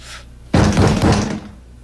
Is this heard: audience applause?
no